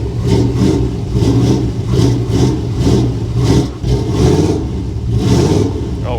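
A 1955 Chevy Nomad V8 fitted with an Edelbrock carburetor revs repeatedly in loud, rhythmic bursts. Between the throttle blips a rough, lumpy idle rumbles close by, with no talking.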